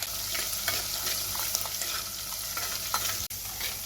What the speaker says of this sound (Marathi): हलकीशी अशी परतून घ्यायची आहे